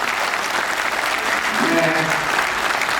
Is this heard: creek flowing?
no